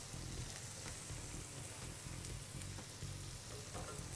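Chicken broth cubes crumbled into hot oil with onions in a pan, a dense continuous sizzle with faint stirring scrapes, close and quiet with no talk.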